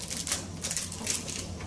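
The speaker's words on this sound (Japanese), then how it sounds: "ハサミで切る方がいいですね。" Kitchen scissors snip through ham for disaster-preparedness poly-bag cooking, giving three or four faint, crisp cuts in a quick, even rhythm with no talking.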